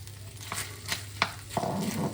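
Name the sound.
onions frying in butter in a pan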